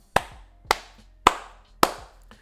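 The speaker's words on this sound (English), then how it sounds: "So I got to give a hand clap" Four crisp, evenly spaced hand claps ring out, roughly half a second apart, each sharp and close with a brief decay, and no talking over them.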